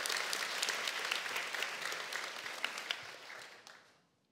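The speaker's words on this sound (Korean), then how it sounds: "큰 박수 부탁드리겠습니다" A large audience at a church mission conference applauds a speaker being introduced, a full and steady roar of clapping that slowly thins out and dies away toward silence.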